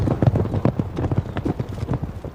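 A cavalry horse in a medieval lance training setting, its hooves clip-clopping in a quick, uneven rhythm of close, fairly loud strikes, with no voices over it.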